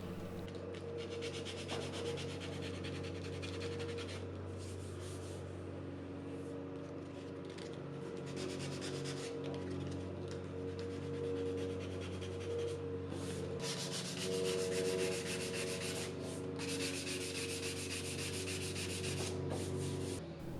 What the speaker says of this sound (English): I had to sand them and redo the area